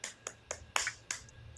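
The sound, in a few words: hands clapping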